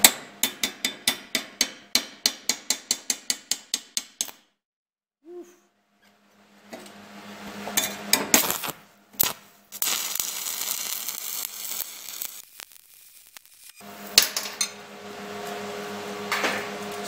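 Stick welding with a Hobart 7018 electrode, run a little hot at about 120 amps: a quick series of sharp rhythmic ticks, a pause, then long stretches of harsh, steady crackling arc noise broken by short gaps.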